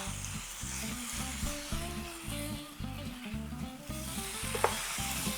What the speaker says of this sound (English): I'm going to leave another minute for the browning of the meat